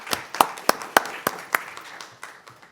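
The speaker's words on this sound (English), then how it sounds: "Let's give that team a round of applause as well" Sparse, scattered claps from a small group at a school district board meeting, a handful of distinct hand claps spaced irregularly across a few seconds in a quiet room.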